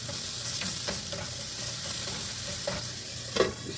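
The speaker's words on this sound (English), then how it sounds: "Just stirring up my bacon a little bit." Bacon stirred in a hot pan, with a steady close sizzle of frying fat and a few scraping clinks from the utensil running throughout.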